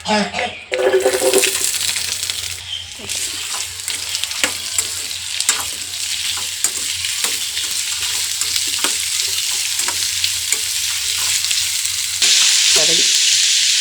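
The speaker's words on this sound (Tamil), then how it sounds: "வெங்காயம் ஒரு 4 கட் பண்ணி வச்சுக்கிறேன், தக்காளி கட் பண்ணி வச்சுக்கிறேன். இப்போ நம்ம இதை வதக்கி எடுத்துக்கலாம்." Onions sauté in hot oil in a pan for a paneer gravy, giving a continuous close sizzle with scraping stirs throughout and a brief louder hiss near the end.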